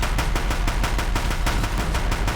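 Deathbringer machines in Horizon Zero Dawn fire on a bridge, a loud, steady rapid-fire barrage of gunshots, roughly eight to ten bursts per second, close and unbroken with no voices.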